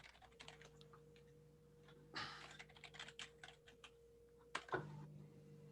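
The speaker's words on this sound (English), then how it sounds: "I'm so used to typing for SD." Quick, uneven taps on a computer keyboard, close and fairly quiet, with a faint steady hum beneath the clicks.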